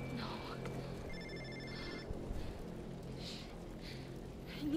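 A phone rings in the video game Infamous First Light, a faint electronic trill repeating in short bursts over soft rain-like ambience, with brief murmurs of voices.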